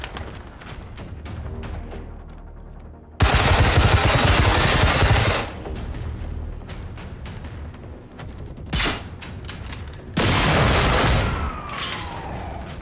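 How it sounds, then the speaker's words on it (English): A hunter robot in the shooter game Generation Zero opens fire in loud, dense bursts of rapid gunfire, with several sustained volleys broken by short pauses and sharper single cracks, close and harsh. "What's shooting at me now? Another hunter is shooting at me?"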